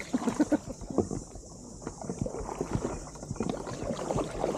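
A boat on the water while kayaking in New Zealand, with continuous splashing and lapping plus wind buffeting, a steady close wash without speech.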